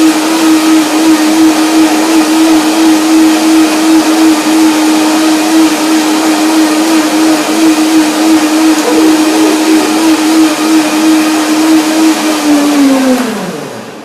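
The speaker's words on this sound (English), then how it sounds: "Let's blend it up." A blender whirs steadily with a strong, constant motor hum as it purees curry and cashews into a dressing, running alone and loud for about thirteen seconds before winding down at the end.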